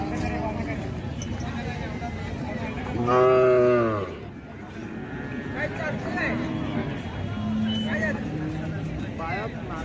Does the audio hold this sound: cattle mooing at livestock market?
yes